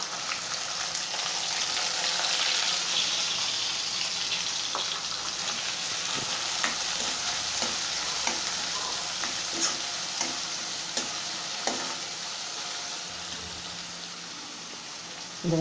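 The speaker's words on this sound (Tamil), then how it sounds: "இந்த வெங்காயம் வதங்குறதுக்கு கொஞ்சம் உப்பு சேர்த்துக்கிறோம்." Onions sauté in a pan with salt for chicken vadakal, a steady close sizzle and crackle running throughout with scattered light scraping taps from stirring.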